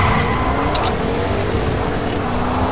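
Car engine in the video game Fortnite, a loud steady motor drone with a faint whoosh, continuous and close.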